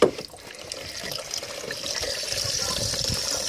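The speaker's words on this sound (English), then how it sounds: "let me just fill up the water more." Water running into a chicken waterer in a barn, a steady splashing trickle that builds gradually over a few seconds, close and alone.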